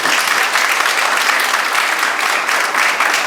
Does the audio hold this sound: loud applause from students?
yes